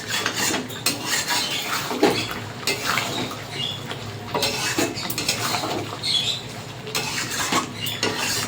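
A spatula scrapes and clatters against a pan while chicken chaap with cashews is stirred, an irregular run of close metallic knocks and rasps.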